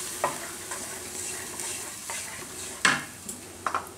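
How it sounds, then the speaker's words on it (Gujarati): A yogurt and papad curry is stirred in a pan over a low gas flame: soft scraping spoon strokes and occasional clinks over a gentle, steady sizzle, close by with no talking. "અને આ રીતે હલાવતા રહેવાનું"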